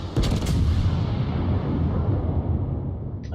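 Naval gunfire in World of Warships, a heavy booming salvo with a sharp onset followed by a long rumbling low-end decay that fades slowly.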